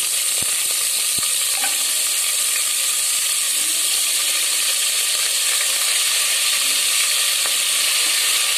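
Goat legs fry in sesame oil in a pressure cooker with a bay leaf and a piece of cinnamon, giving a loud, continuous sizzle with faint clicks and no talking.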